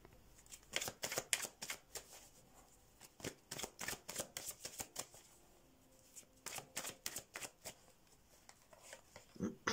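Tarot cards shuffled close up in repeated quick riffling bursts that start and stop in an uneven rhythm, loud against a quiet background with no talking.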